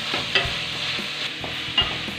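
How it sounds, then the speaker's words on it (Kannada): Paneer masala frying in a pan, a steady close sizzle with stirring scrapes and a couple of sharper clicks, no voices. "ಅದು ಕೂಡ ಚೆನ್ನಾಗಿ ಫ್ರೈ ಆಗಲಿ."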